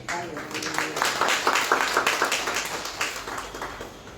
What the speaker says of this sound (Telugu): చప్పట్లు కొట్టండి ప్రభుకి